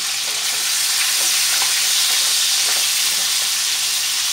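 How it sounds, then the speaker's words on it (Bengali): Sliced pointed gourd (potol) sizzles steadily in oil in a frying pan while being stirred, with a loud continuous crackle and faint scraping, and no voices. "এভাবে আমি কিছুক্ষণ নেড়ে পটলগুলো ভাজতে দেবো"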